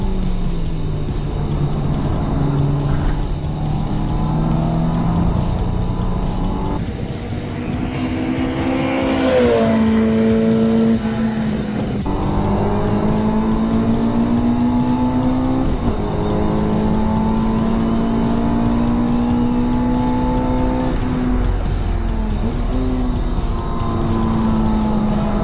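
Honda S2000 on a hot lap at Chang International Circuit during Classic Revival 2022, engine revving hard and climbing through gears in long pulls, loud and close throughout with steady road and wind noise.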